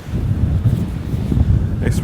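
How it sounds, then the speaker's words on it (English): Strong wind on a clifftop buffets the microphone with a loud, continuous low roar, gusting steadily throughout. "It's really windy."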